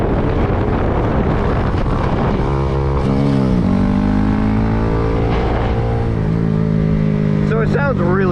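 A Honda Grom motorcycle with a cheap $100 aftermarket exhaust, baffle fitted, roars loud and close as it revs and shifts. Its rising, falling pitch is buried in heavy wind buffeting from riding.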